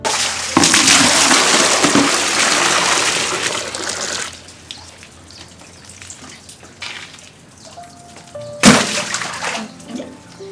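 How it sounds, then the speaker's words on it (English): Water being fetched from a well in Achara Layout, a loud gushing pour lasting several seconds, then quieter dripping and sloshing before a second sharp splash near the end. "Fetching water from well is a predominant practice in Achara Layout."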